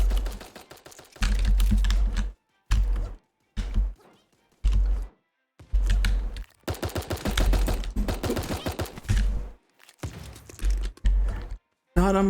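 Rapid pistol fire in the cartoon battle royale game Super Animal Royale comes in loud, clipped bursts of quick shots separated by short silences, with some speech mixed in.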